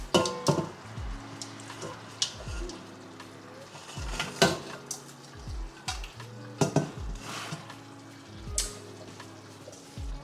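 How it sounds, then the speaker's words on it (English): Pasta and sauce for a vegan or vegetarian meal being mixed in a container, with a utensil repeatedly scraping and clanking against the sides and wet squelching between strokes, close and fairly loud. "So I'm gonna put both of them back in here and mix it up."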